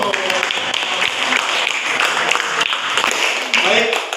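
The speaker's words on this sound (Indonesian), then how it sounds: "tepuk tangan dulu" Classroom group claps after student presentations on length measurement, a fairly loud, uneven patter of hands with individual claps standing out and a brief dip before it picks up again.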